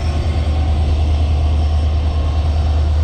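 Darjeeling Mail to Sealdah standing at Haldibari station, giving a loud, steady low rumble and hum of the train with constant broadband noise throughout, no voices.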